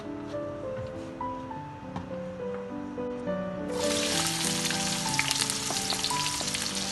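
Onions browning in about a cup and a half of oil for a green Bombay chicken biryani: a steady, loud close sizzle and crackle that swells sharply halfway through, with background music running beneath.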